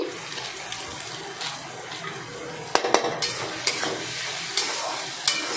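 Tadka masala hits a hot pan with a continuous loud sizzle, punctuated by several sharp clanks and scrapes of a utensil against the pan in the second half.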